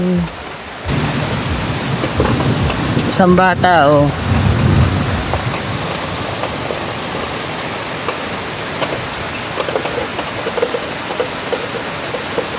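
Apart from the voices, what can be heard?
heavy rain with thunder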